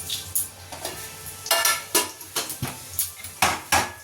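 Dry red chillies, a bay leaf and whole cumin seeds hit hot oil in a home kitchen, giving a steady close sizzle broken by a run of sharp stirring and pan clatters at an uneven rhythm, with no talking.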